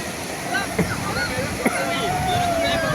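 Sea waves washing up at Puri beach, a steady roaring rush of surf close by, with crowd voices and chatter carrying over the water noise.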